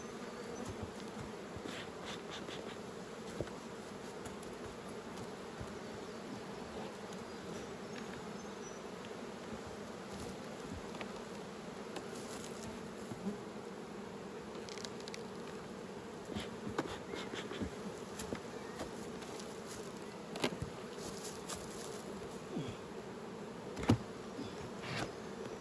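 Honey bees swarm and buzz steadily around an open spring hive during nucleus management, a dense continuous drone close by with occasional louder passes near the ear and no talking.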